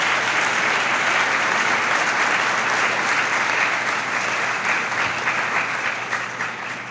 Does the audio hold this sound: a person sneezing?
no